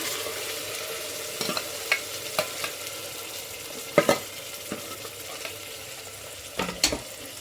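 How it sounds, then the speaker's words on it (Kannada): Ground masala and tomato fry in a pan for avarekalu gravy, giving a steady soft sizzle broken by scattered clinks and scrapes of stirring, close up with no talking. "ಈಗ ನಾವು ರುಬ್ಕೊಂಡಿರೋ ಮಸಾಲೆ ಹಾಕಿ ಫ್ರೈ ಮಾಡೋಣ"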